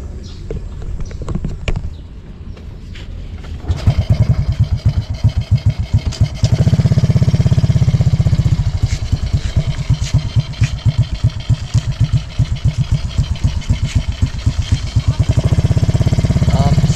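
A motorcycle engine near Taal Lake starts and runs with a rapid, loud, close chugging putter, steady and pulsing, with a brief rev and faint outdoor sounds around it.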